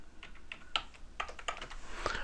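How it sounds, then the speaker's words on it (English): Computer keyboard typed on in short irregular bursts of crisp, quiet key clicks, close by with no talking. "I'm just going to type O2 mezzanine"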